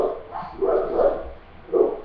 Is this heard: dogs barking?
yes